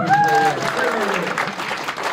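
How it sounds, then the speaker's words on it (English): Audience applause at a youth leadership debate seminar in North Carolina, a steady wash of clapping with speech and crowd murmur mixed in and a brief tonal squeak near the start. "let's give everyone a round of applause"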